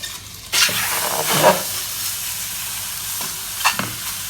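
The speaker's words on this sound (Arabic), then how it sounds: "نزلت بالزبده، انزل بالفخده كده" A lamb leg goes into butter in a hot pan and sears with a steady, loud sizzle and hiss, with brief crackling bursts and light stirring or shifting sounds on top, no talking.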